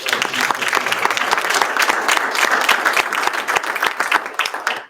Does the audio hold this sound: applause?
yes